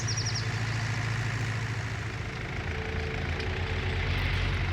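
A tractor engine idles in Farming Simulator 19, a continuous low, steady rumble with a faint high chirp near the start.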